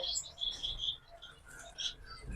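Parrot chicks in an aviary let out quick, thin, high chirps in short irregular bursts, fairly close and at modest loudness.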